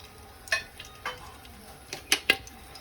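Six cloves and six cardamom pods, added after cinnamon, frying in a pan while being stirred, with a few distinct clinks and scrapes over a faint, steady sizzle.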